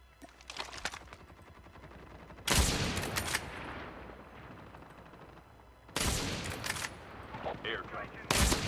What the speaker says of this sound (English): Okay, somebody's shooting.